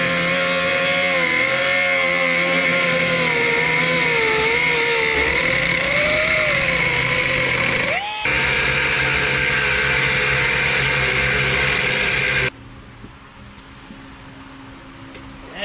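A power tool trims the bumpers of a Toyota Tacoma with a loud, continuous whine that wavers in pitch and then stops abruptly, leaving quieter background noise.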